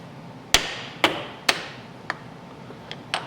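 Sharp metal strikes from hammering on a part of a Case 580SK backhoe hydraulic cylinder: three loud evenly spaced blows, then a few lighter taps, close by in a quiet workshop.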